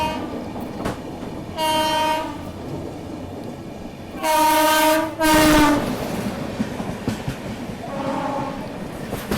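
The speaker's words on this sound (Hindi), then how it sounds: "ये महालक्ष्मी एक्सप्रेस आ रही है सामने से" Mahalaxmi Express passing on the opposite track, heard from aboard a moving train: a steady rumble of wheels under three loud horn blasts, the middle one longest and strongest.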